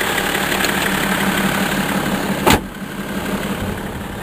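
A BMW xDrive diesel engine runs steadily at a rumbling idle, with a sharp brief knock or clunk midway before the drone continues.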